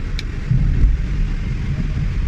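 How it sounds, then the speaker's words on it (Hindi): Air conditioning fan running inside a closed Hyundai i20, a steady low rumbling whoosh with a constant hum underneath, close and even throughout. "अब ये फ़ैन चल रहा है।"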